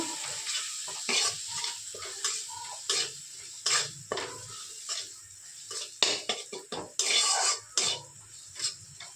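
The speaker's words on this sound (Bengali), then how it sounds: "এবার এটা ভালো করে নাড়াচাড়া করে নেব" Ground spices, including cumin and black pepper, are stirred in a cooking pan, with repeated rhythmic scrapes and clinks of the spoon over a light sizzle, close and fairly loud.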